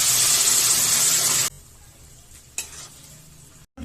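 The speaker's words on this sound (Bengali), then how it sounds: "কষানো হয়ে গেছে, এখন আমি জল দিয়ে দেবো।" Water goes into a pan of sizzling mushroom curry: a loud, hissing sizzle cuts off abruptly into quiet bubbling, then a brief burst of spitting and a final clatter.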